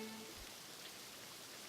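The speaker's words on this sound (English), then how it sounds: "Let's give it a rainy day." Steady rain hisses evenly in the game Forecasting, a soft continuous wash of falling drops with no talking.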